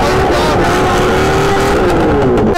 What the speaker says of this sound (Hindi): भाई दिखा रहा है हमें बर्नआउट।